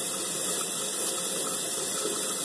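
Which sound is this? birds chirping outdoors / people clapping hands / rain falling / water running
water running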